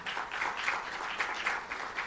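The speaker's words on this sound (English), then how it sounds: "I have to give him a big round of applause" Steady round of applause at a press conference on a plastics ban, moderately loud with dense, uneven clapping from a gathered audience and no speech over it.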